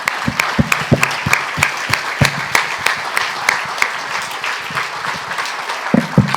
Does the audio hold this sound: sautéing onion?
no